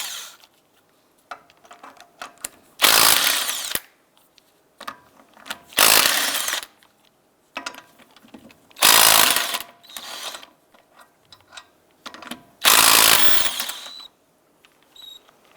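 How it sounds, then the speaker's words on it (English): A 19mm socket on a power tool removing the lug nuts from a wheel of a 2001-2007 Ford Escape, with four loud, close rattling bursts about a second long, separated by quiet gaps with small clinks. "Using a 19mm socket, go ahead and remove the lug nuts"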